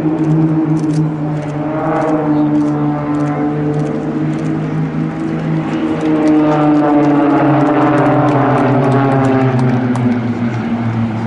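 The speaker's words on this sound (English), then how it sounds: "It is the Spitfire roll." A Spitfire rolls overhead during an air show display, its propeller engine droning loud and steady throughout with a rising and falling pitch as it passes, heard alone without talk.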